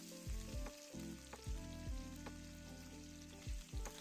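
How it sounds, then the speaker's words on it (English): Carrot, onion and sweet pepper sauté gently in a pan for escovitch sauce, a quiet sizzle under repeated low, heavy thumps and knocks. "I am barely sauteing this."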